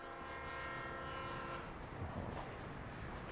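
A video game train approaches with a sustained, steady horn blast that fades after about a second and a half, leaving a continuous rumbling rolling noise with no voices.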